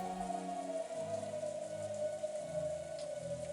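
Rain and wind ambience from the visual novel Umineko When They Cry, a soft continuous patter of rain under a faint steady tone and low background music.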